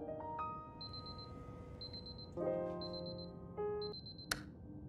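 An alarm clock in the video game Superliminal rings in short repeated bursts of high beeping over a faint hum, with a few tonal game chimes and a sharp click near the end.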